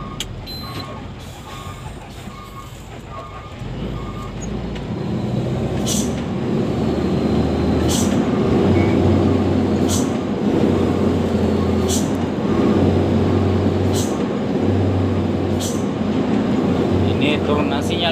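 A heavy vehicle's engine labours in low gear on a steep downhill road near Penajam Paser, with a steady, droning mechanical roar, a few intermittent sharp clicks and beeps, and people talking over it.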